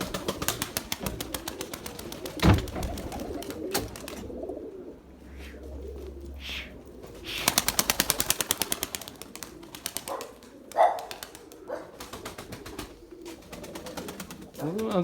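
Pigeons coo softly at a distance while the wings of birds being flown give bursts of rapid flapping. Someone talks intermittently and a dog is briefly audible.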